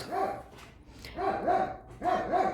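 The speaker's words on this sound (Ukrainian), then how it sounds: "такі розговорчиві у нас сусідські собаки" Neighbours' dogs bark in a garden, several repeated bursts of barks in quick succession, moderately close with brief gaps between volleys and no talking over them.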